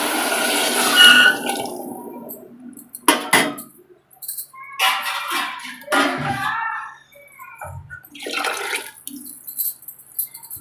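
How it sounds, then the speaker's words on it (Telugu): Water poured from a glass into a pot of dal in a home kitchen arrives in several separate splashing bursts with quiet gaps between them, close and fairly loud, with no speech over it. "వాటర్ వేసుకుంటున్నానండి"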